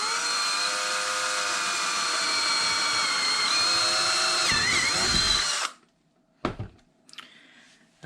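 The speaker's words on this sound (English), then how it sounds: "and drill our first hole" A power drill whines loudly and steadily for several seconds, dips briefly under load, then cuts off, followed by a few short clunks.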